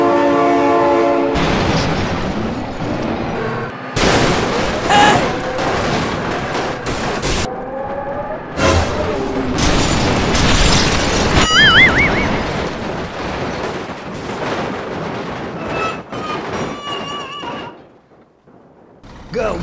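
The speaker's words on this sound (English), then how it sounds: "Train!" A train rolls past with a sustained horn in a vehicle simulation game where trucks and trailers crash into rails; loud and close, with a rumbling passage, layered horn tones and scattered crash noises.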